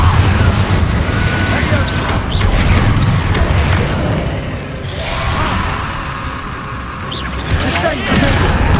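Confringo blasting spell explosions in the Hogwarts Legacy video game on PS5, repeated booming blasts and crashes amid chaotic combat noise, loud and dense throughout.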